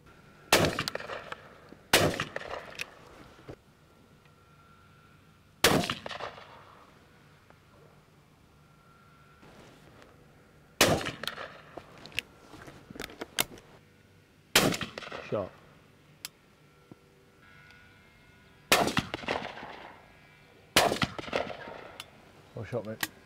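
Shotguns fire at crows coming in over a maize clamp on a morning shoot: about eight loud, sharp reports spaced several seconds apart, some in quick pairs, with faint rustle and wind between them.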